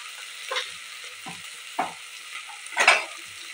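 Sprouted peas stirred in a salted pan, a soft, quiet background sizzle broken by four or five distinct scraping strokes of a spoon, each a short burst, the last one the loudest, no talking.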